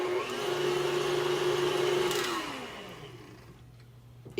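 An electric stand mixer beats red velvet chocolate chip cake batter in a bowl, a steady motor whine that winds down and fades toward a low residual hum.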